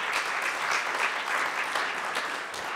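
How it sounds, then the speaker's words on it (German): An audience claps steadily at a digital society congress to welcome a guest onto the stage. The applause is a dense, even patter that holds at full strength for nearly three seconds, with no voices over it. "Einen großen Applaus, herzlich willkommen, Gesche."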